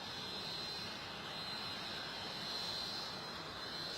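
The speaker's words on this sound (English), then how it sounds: "they're certainly taking off from right down the runway again." A private jet taking off down the runway at London Stansted airport, a steady, fairly faint broadband engine roar heard from a distance, holding even throughout with no talk.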